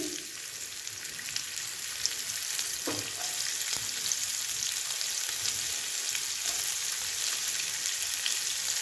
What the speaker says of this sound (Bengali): এখন আমি সেটাতে কয়েকটা কারি পাতা দিয়ে দিয়েছি, দিয়েছি পেঁয়াজ কুচি